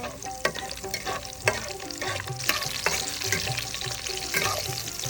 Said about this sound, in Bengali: তেল গরম হয়ে গেছে তো এবার দিয়ে দেব মরিচ কুচি তারপরে দিয়ে দেব কালো জিরা এবার একটু ভালোভাবে ভেজে দেব